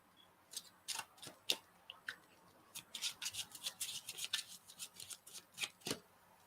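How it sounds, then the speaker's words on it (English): A deck of playing cards being shuffled, with a run of quick, crisp riffling bursts and soft flicks that start sparse and then bunch closely together, heard alone with no talking. "So now I'm going to shuffle these up here."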